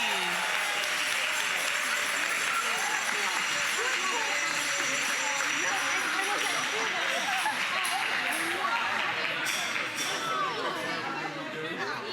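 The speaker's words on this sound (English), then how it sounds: "give everyone a final round of applause for all of our honorees" A school board of education meeting audience gives a long round of applause for honorees, with dense, continuous clapping mixed with chatter, fading slightly toward the end.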